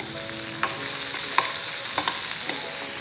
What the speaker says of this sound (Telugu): ఉల్లిపాయ ముక్కలు వేగిపోయినాయి. దీని గుర్తు ఏంటంటే చిట శబ్దం వస్తుంది.